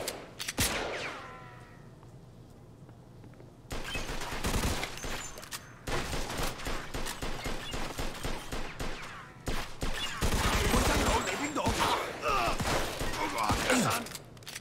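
Repeated gunfire bursts from a shootout in the video game Mafia 2 Definitive Edition, loud volleys in clusters with short pauses, mixed with voices talking and shouting over the shots.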